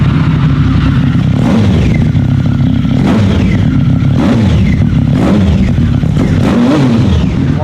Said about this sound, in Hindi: सबसे पहले इसके अंदर स्कॉर्पियन कंपनी का आपको ऑलमोस्ट लाख रुपए का एग्जॉस्ट लगा हुआ है। साउंड चेक करें।